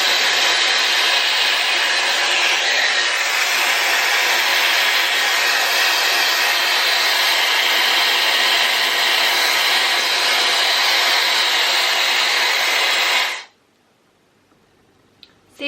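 Dyson Airwrap hair styler blowing air at a bob haircut, a loud steady whooshing roar that runs unbroken for about thirteen seconds and then cuts off abruptly to near silence.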